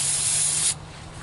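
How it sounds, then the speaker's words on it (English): A continuous aerosol degreaser spray on a Chevy Cavalier engine hisses loudly for under a second, then cuts off abruptly, leaving a quieter hissing residue. "I'm going to give one more spray down with the degreaser."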